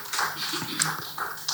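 Scattered claps ring out from a comedy show audience, sparse and uneven rather than a full ovation, with a few sharp individual hits standing out.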